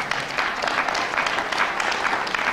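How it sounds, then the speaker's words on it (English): An audience at a political lecture claps in sustained applause, a dense, moderately distant patter of many hands that swells and holds throughout. "Now the fact that that even gets applause is significant."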